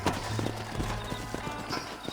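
Horses' hooves clip-clop on the ground in the western game Red Dead Redemption, a quick uneven run of close, moderately loud steps as riders dismount, with no talk over it.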